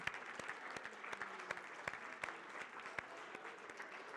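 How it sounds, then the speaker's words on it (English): An audience at a candidate forum for an Illinois state legislative district stands and applauds itself: steady, dense clapping from a sizeable crowd at moderate distance, sustained without a break and with no voices over it. "Stand up and give yourselves a round of applause"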